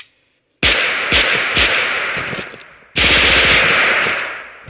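Automatic gunfire in the VR shooter Bullets And More, two loud, close bursts of rapid shots separated by a short pause.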